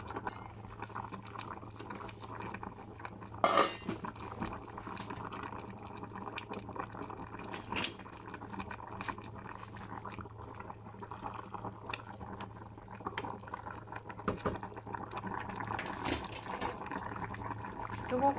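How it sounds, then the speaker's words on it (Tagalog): Paksiw na tambakol, tuna simmered with coconut milk and pechay in a pot, bubbling at a steady low patter close by, with occasional clinks and kitchen handling noises throughout. "So, pakuluan lang po natin."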